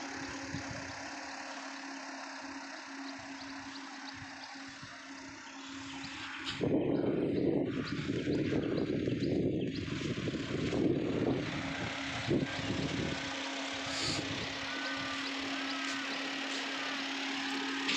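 A car engine idles steadily nearby in a parking area, its hum swelling louder for several seconds mid-clip as the car maneuvers into a parking spot, then settling back to a lower running drone.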